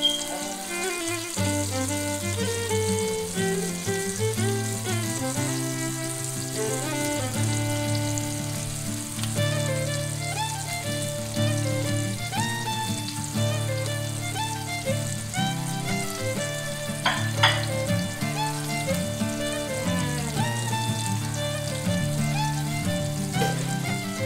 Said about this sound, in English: Man, that is a super sear, y'all.